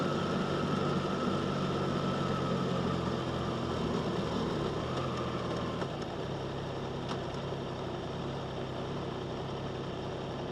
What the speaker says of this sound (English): it's all engine and exhaust noise, which is pretty sweet